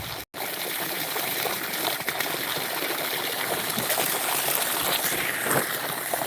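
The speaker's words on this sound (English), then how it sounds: "Yep, got the water running." Water from a hose runs steadily into a horse's water tank outdoors, a continuous rushing, splashing stream that holds near and even throughout after a brief cut at the start.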